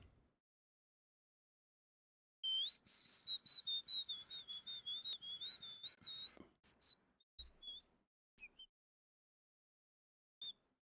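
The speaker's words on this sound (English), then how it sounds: "You don't like the whistling." A person whistles a sustained, wavering high tone for about four seconds, then gives several short broken whistles and one brief final note, heard alone in a quiet room.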